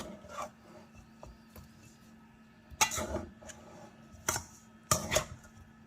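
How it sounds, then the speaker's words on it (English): Oxtails coated in browning sauce being stirred in an Instant Pot, with a few scraping, clattering bursts of a utensil against the pot between quieter stretches, close by and without talk. "Now we're just going to give this a big stir."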